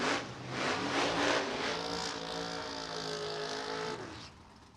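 A supercharged 565 cubic inch big block Nova at a drag racing test and tune, a loud engine roar building and holding with a rising whine, then dropping off as the car pulls away.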